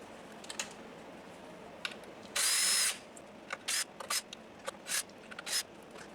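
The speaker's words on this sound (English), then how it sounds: "All the screws must be unscrewed." Screws are backed out of a Marshall Woburn Bluetooth speaker with a power driver. There is one short burst of whirring and a run of faint clicks and taps from the screws and tool close by, and no talk.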